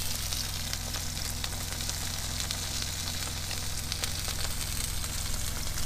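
Thin salmon pieces fry in a pan inside a truck, a steady close sizzle and crackle that holds at an even level throughout, with a low hum underneath and no talking.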